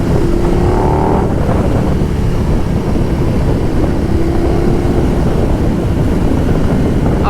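A $30,000 high-performance motorbike accelerates hard, its engine a loud, steady roar with rising pitch sweeps, constant close wind and road rush throughout.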